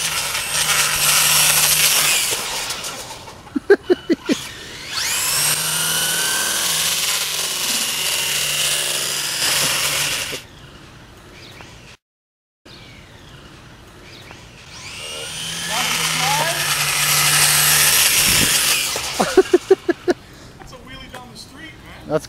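Traxxas 4x4 Slash Platinum RC car with a Mamba Monster motor on a 5S LiPo, whining loudly in high-pitched bursts that rise and fall as it speeds off, with a short silent gap between two runs and voices heard around it.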